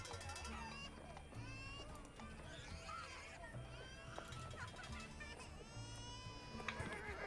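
Faint children's crying woven into ambient tabletop-game background music in a Roll20 session, thin wailing cries looping under the music, quiet and distant, with players talking over it.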